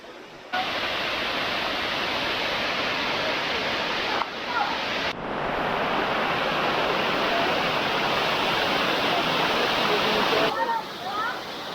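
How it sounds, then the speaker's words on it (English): Steady, loud roar of falling water at Beaverbrook Falls in New Hampshire, broadband rushing that fills nearly the whole stretch, broken only by a brief dip near the start and another midway, heard close up without talk. "This place, Beaverbrook Falls."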